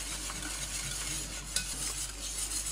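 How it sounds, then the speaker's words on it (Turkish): A hand whisk stirring red lentil soup in a pot, a steady soft scraping and swishing that runs continuously at close range, with one brief sharper clink midway and no voices. "Çırpıcıyla yaklaşık 3-4 dakika karıştıracağım."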